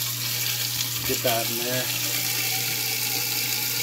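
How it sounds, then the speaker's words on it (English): Cold tap water runs at full force into a kitchen sink garbage disposal, a steady broadband rush that is moderately loud throughout, with a brief spoken phrase near the middle. "Cold water. Now I got it on full blast."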